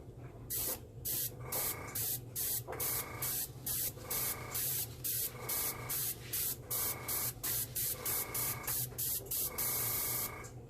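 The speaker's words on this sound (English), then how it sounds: "When you get to the edge, keep the airbrush going, otherwise you get lines." Close, hissing bursts from an airbrush spraying alcohol ink onto ceramic tile, repeated in a steady rhythm of short on-off pulses lasting about half a second each, with no voices.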